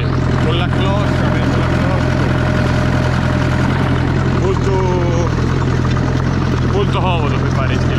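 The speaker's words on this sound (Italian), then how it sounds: "un trattore molto più veloce, più agile" A 90-horsepower New Holland tractor engine runs steadily with a constant low droning hum and rattle, close and loud, while someone talks over it the whole time.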